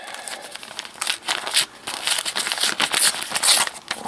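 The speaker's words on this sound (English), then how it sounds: "I have an envelope here." Close crinkling and tearing of a paper mail envelope being opened, with irregular rustling bursts and short pauses, heard alone without talk.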